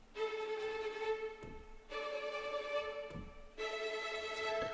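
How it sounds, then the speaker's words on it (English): Adagio violins from 8Dio play spiccato, three sustained-looking bowed phrases with bright harmonic layers, separated by short gaps, moderately loud with no voices. "Now bounce is spiccato, and that's the one I've used in this track."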